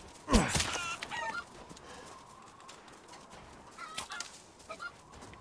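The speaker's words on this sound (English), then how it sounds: "Come here, chicken." A chicken clucks in the video game Resident Evil Village, a sharp flurry of clucks near the start, then quieter scattered clucks over a dim ambient background.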